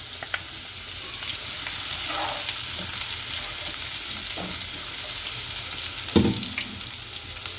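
Crushed ginger frying in an oiled pan with garlic, stirred by a spoon, giving a steady close sizzle with a few scraping stir sounds and one louder clatter near the end.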